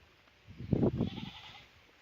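A tethered goat, kept apart from foraging sheep on a farm, lets out a single short, faint bleat in an otherwise quiet setting.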